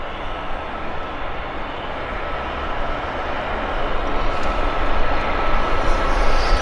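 A Porter Airlines plane bound for Montreal at Vancouver Airport gives off a steady, broad jet roar that grows slightly louder over several seconds, heard at a moderate distance.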